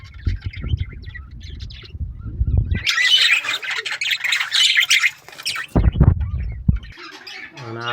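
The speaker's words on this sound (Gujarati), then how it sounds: "અને આ આપણો ફિન્સ એટલે કે કાબરો." A pet myna bird at a small home zoo gives loud, harsh squawks in bursts, broken by short pauses and some low thumping sounds nearby.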